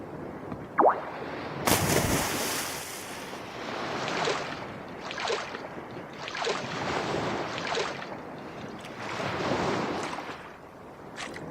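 A character swimming in water in the video game Paradisiaque, a series of soft swishing splashes repeating in a loose stroke rhythm over a quiet watery background.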